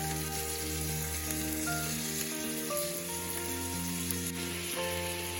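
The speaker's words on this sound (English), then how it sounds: "I'm going to add the meatball in the pot. I want to fry it until it's golden brown on each side." Meatballs fry in a pot with a steady, crackling sizzle, while a constant tonal hum of background music or an appliance runs underneath throughout.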